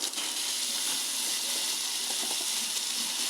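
Ginger, cumin and coriander paste frying in a pan for paneer masala, a steady loud sizzle and hiss that holds from start to finish with faint clinks underneath.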